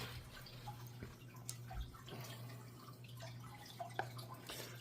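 Water drips and trickles faintly from spawning mops lifted out of a Praecox rainbowfish breeding tank, scattered small splashes and droplets over a low background hum, with no voices.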